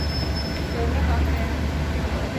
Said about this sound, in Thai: ตอนนี้ผมอยู่ที่สถานีรถไฟหัวลำโพงนะครับท่านผู้ชม